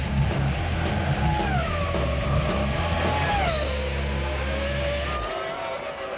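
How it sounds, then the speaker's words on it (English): Formula One race cars from Ferrari, Williams and Jordan scream past at close range, engines wailing and shifting pitch as they battle for fourth place, loud and continuous before the roar thins out near the end. "Frank Williams and Patrick Head look on as Ralf Schumacher and Frentzen squabble over 4th position."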